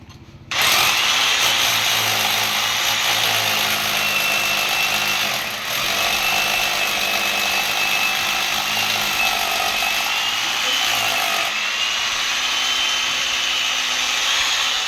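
A power drill bores a hole at a rural home, a loud, steady whine that starts abruptly and runs almost unbroken for about fourteen seconds with one brief dip.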